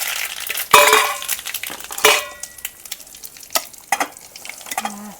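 Sesame seeds and curry leaves drop into hot oil and crackle loudly, then settle into a steady sizzle with a few spoon clinks against the pan, while patra is cooked in a village kitchen.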